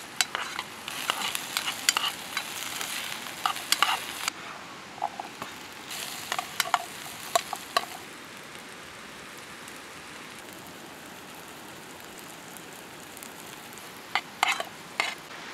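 A metal spoon stirs food in a pot over a campsite fire at a riverside in Magdalena, Laguna, with a steady sizzling hiss throughout and scattered sharp scrapes and clinks, busier in the first half and sparse later.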